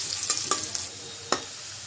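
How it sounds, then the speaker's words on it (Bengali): Chopped onion frying in hot oil in a kadai, up close: a steady bright sizzle broken by a few quick scraping knocks of a stirring spoon, with no talk. "পেঁয়াজটা ভেজে নেব।"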